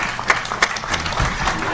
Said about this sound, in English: May we give a better round of applause to our chairman, the president-elect